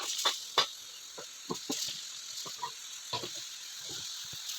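Quiet, steady sizzling from vegetables frying in a pan in a home kitchen, broken by scattered soft clinks and scraping stirs.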